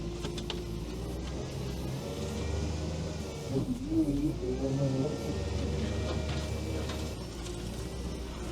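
A Veter all-terrain vehicle drives slowly off-road, its engine droning steadily and close, with a brief whining strain in the middle as it slides; someone talks over it.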